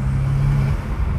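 A BMW M5 Competition F90 fitted with aftermarket intakes, heard close as a loud, steady rumbling drone with a low hum that drops off partway through.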